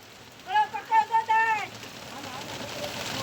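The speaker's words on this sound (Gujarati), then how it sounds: "હજી તો કામ પૂરું થઈ રહ્યું ત્યાં તો વરસાદ આવ્યો" Steady rain comes down outdoors in a village, a broad even hiss that carries on after a voice sings or calls out loudly near the start.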